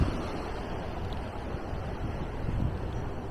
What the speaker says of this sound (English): And we can now see the water running into the pound.